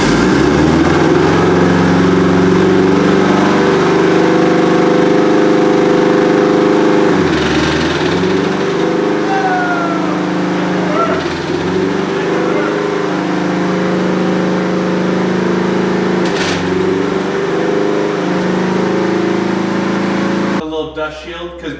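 A big turbocharged sleeper wagon's engine runs with its rear wheels lifted off the ground, a loud, close, continuous engine drone with a few brief surges and rattles and no voices.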